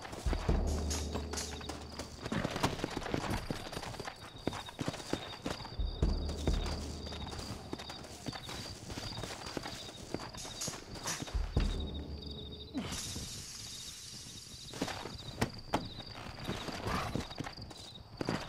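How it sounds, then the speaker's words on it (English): Horses gallop in the Western video game Red Dead Redemption, a rapid, continuous clip-clop of hooves at close range, with intermittent gunfire-like bangs and a brief break in the rhythm late on. "Looks like Carlos left us some horses."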